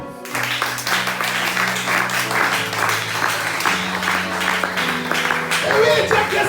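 Church congregation clapping and cheering in praise of the Lord, sustained applause with sung or spoken voices and musical tones running underneath.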